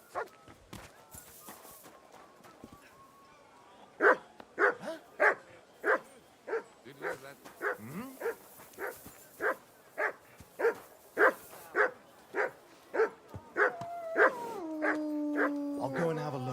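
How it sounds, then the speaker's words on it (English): A dog in Kingdom Come Deliverance 2 barks about a dozen times in a steady run. The barks are close and loud, and game speech sounds around them. A melodic tone enters near the end. "Call off that dog, or I'll report you for being a public nuisance."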